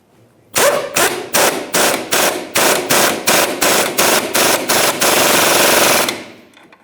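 Rapid bursts from an impact wrench tightening the rear forward lower control arm bolts on a 2012-2018 Nissan Altima, about a dozen loud, close hammering rattles in a steady rhythm before a final sustained run, with no talk.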